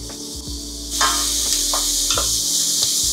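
Onion and garlic hit hot oil in a pan and start to sizzle steadily, a close, crackling hiss that stays loud and continuous, with a few stirring clunks.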